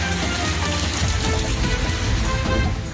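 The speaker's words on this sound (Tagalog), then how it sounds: "mas lumakas pa ang pagbayo ng ulan at hangin" Heavy rain and wind from Typhoon Nika in Casiguran, Aurora, a dense continuous roar of rain hitting surfaces with gusty low rumble, loud and steady throughout with no voices.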